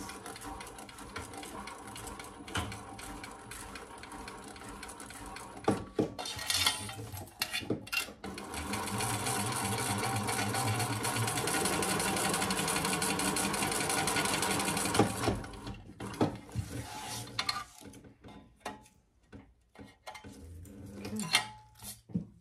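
A domestic sewing machine runs in a long, steady, fast whir while basting fabric pieces for a waist pack, with start-stop handling clatter before and after; no one speaks.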